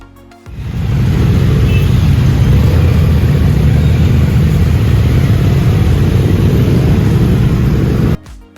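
A large group of Triumph motorcycles riding together on the Distinguished Gentleman's Ride through Pune, their combined exhaust notes forming a loud, steady, dense engine roar that builds in quickly and holds for several seconds before cutting off.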